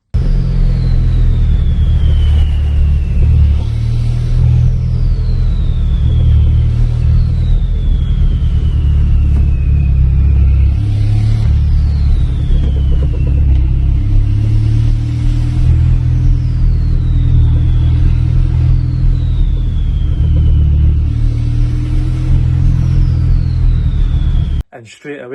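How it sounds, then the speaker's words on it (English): Chipped Seat diesel with a 1.9 TDI engine, turbocharged, revving hard and continuously at close range, a deep steady rumble with repeated rising-and-falling turbo whistles over about 25 seconds, no talk. "I seen a video of a Seat and it sounded like this"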